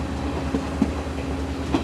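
A passenger train on the Colombo to Kandy line rumbles steadily from inside a carriage, with a low droning hum and faint rhythmic wheel knocks, no talking.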